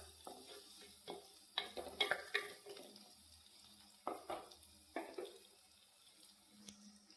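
Sliced onions frying in an oil-filled clay pot for an onion curry, with stirring scrapes and clatters of a spoon against the pot, irregular bursts over a soft background sizzle.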